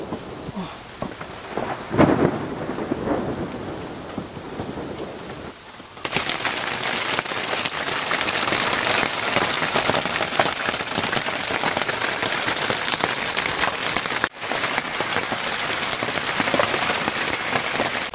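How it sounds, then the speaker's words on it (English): Steady heavy rain pours down on a woodland cabin, close and hissing, with a low rumble of thunder early on and a brief pause partway through. "We had a bit of rain the other day"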